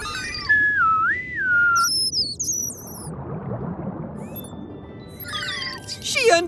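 A person whistles in rising and falling warbling tones imitating a dolphin's signature whistle, clear bursts that alternate with a bubbly underwater wash, more high chirping whistles near the end.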